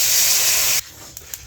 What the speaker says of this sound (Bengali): আমার ভাজা হয়ে গেছে, এখন আমি জল দিয়ে দেবো।